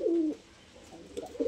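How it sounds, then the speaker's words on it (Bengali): Pigeons coo softly in a loft of colour pigeons in Kolkata, two low close calls bracketing a brief pause. "এটা ঝাপড় নর পায়রাটা, আর এটা মাদি পায়রাটা"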